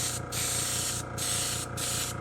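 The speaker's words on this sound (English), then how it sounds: "So I don't want to spray too much." Airbrush spraying silver paint onto a custom shad fishing lure, a steady close hiss in three long bursts separated by brief pauses.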